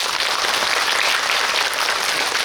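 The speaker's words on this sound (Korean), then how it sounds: "세 분께 박수 한번 부탁드립니다." A cinema audience at a film Q&A applauds three guests with dense, continuous clapping that stays loud and steady from start to finish, with no talking over it.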